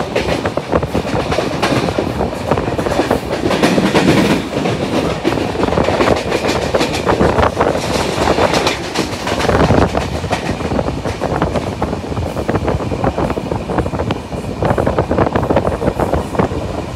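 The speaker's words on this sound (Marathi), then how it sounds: "तो होणार आजचा मांडवी एक्सप्रेस एकदम सुसाट" Mandvi Express passenger train running fast, a steady loud rumble with rattling clickety-clack of wheels over rail joints and wind buffeting throughout, heard from on board.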